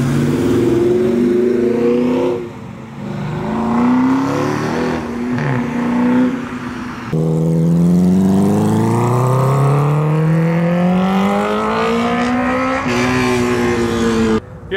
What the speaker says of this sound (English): some heavy hitters rolling with the Chevy SS up front and then the Hellcat on the very unique wheels